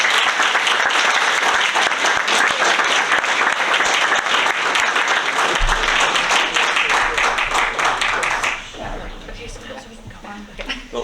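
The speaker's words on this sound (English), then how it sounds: "Have a round of applause." Loud, sustained applause fills the room at a school board meeting in Sitka, then tapers off as voices and room noise take over.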